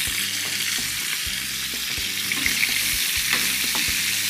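Shrimp sizzle loudly in a hot pan while a utensil stirs them, the steady frying hiss broken by a regular series of scraping knocks about every half second.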